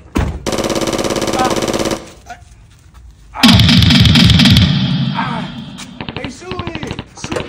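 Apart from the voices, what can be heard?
gunfire from a drive-by shooting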